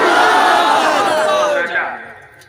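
A large crowd at a religious gathering roars a Takbir slogan in unison, a loud massed shout that holds and then fades away.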